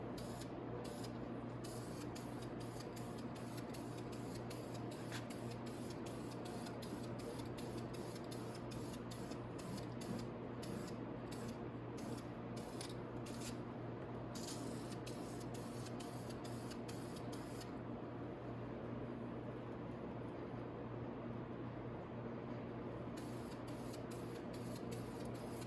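A spray can hisses continuously while painting a part from a Venom 250cc Villain chopper during a restoration, a steady close hiss under a constant background hum with a brief pause near the end.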